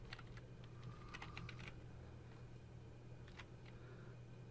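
Computer keyboard clicking in bursts of quick keystrokes as code is entered, faint and close over a steady low hum, with short pauses between runs.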